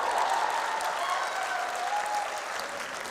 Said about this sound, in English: Clap for yourself for looking like that.